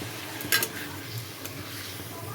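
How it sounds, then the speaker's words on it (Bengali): Spice paste poured into frying bottle gourd in a pan for a gourd curry, setting off a steady soft sizzle with a brief clink of a utensil near the start. "এখন এর মধ্যে আমি যে গুলে রেখেছিলাম মশলাটা, সেটা এর মধ্যে দিয়ে দেব।"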